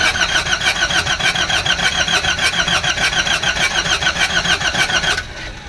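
A Nissan NV350 van's YD25 engine cranks steadily and loudly in a fast rhythmic churn for about five seconds, struggling without catching before cutting off abruptly.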